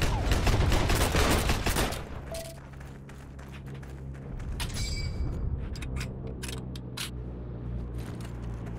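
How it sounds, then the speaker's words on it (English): Gunfire from the World War II shooter Heroes & Generals, loud rapid shots striking the player at first, then scattered sharper single cracks and mechanical clicks further off. "Oh, look, I'm being shot."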